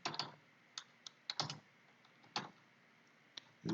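Keys tapped on a computer keyboard while text is entered, a sparse irregular run of soft clicks with short pauses, close but quiet and without talk.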